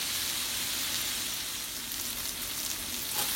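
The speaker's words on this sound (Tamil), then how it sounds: "ஒரு 5 மினிட்ஸ் வதங்கணும்." White onion, red pepper and green pepper sautéing in a pan, giving a steady, loud, continuous sizzle and frying hiss that runs unbroken throughout with no voices.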